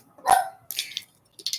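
A pet dog gives one sharp, loud bark up close indoors, followed by a few quieter yips and snuffles in short bursts.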